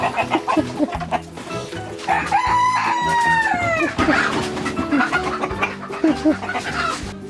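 Chickens cluck and a rooster crows amid a busy, continuous flock chorus in a coop in the evening, close and lively throughout.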